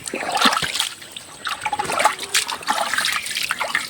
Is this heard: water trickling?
yes